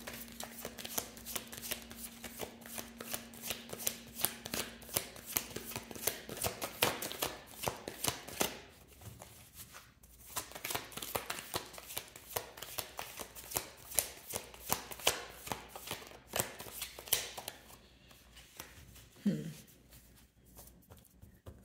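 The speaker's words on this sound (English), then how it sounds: "I'm trying to, you know, shuffle your cards" Tarot cards shuffled by hand during a reading, a steady run of crisp riffling and slapping card noises, close and fairly loud, with a brief low hum early on and a single short thud near the end.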